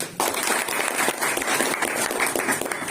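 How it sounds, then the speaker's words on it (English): Students in a classroom at an English coaching academy break into loud, close, vigorous clapping that starts abruptly and holds for nearly three seconds of dense, uneven hand claps. "there must be the bold clapping for this one"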